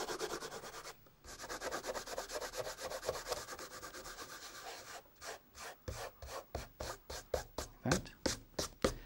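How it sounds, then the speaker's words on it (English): Fingertips rub dried masking fluid off watercolour painting paper, a soft close scrubbing that runs steadily, breaks briefly, then turns into a series of quick separate strokes toward the end. "With clean, dry hands, remove the masking fluid by rubbing with your fingers."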